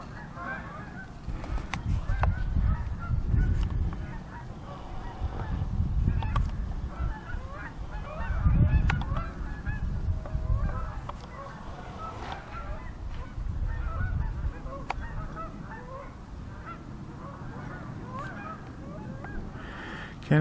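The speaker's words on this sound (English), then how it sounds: "Canada geese. They've been gathering for quite a while now." Canada geese honking repeatedly in a gathered flock outdoors on a calm, nearly windless autumn day, the calls overlapping in uneven bursts that swell and fade, mid-distance and fairly loud.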